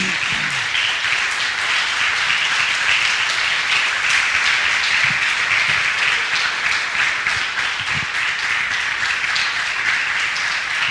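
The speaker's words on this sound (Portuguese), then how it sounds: "Você quer se levantar de pé e aplaudir a Jesus nessa noite?" A church congregation applauds together in a dense, steady wash of clapping that runs for about ten seconds without a break.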